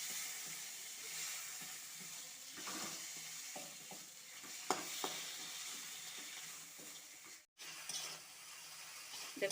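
Chopped tomatoes frying in a pan, giving a steady soft sizzle with scattered scraping and stirring clicks throughout, interrupted by one brief silent gap near the end.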